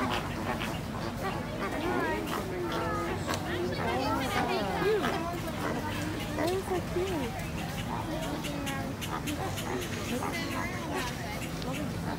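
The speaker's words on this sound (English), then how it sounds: "We have these birds coming to us to" Birds call out with repeated quacking and honking close by at Discovery Cove marine park, while people talk in the background.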